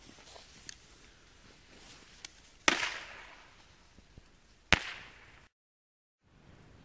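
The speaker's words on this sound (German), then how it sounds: "jetzt kommen die Blizzard-Knaller vom Sortiment Böller-Parade" Two loud, sharp Blizzard-Knaller firecracker bangs from a Böller-Parade assortment on New Year's Eve, a couple of seconds apart, each with a short crackling tail, amid a few smaller pops and faint background noise.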